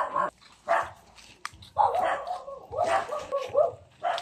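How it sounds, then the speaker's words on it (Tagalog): A dog barks several times in short bursts, near and fairly loud, with people talking around and between the barks. "Pinatahol na tayo ng aso."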